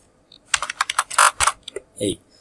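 HTML code typed on a computer keyboard, a quick close burst of crisp keystrokes followed by a short pause and a couple of softer final taps.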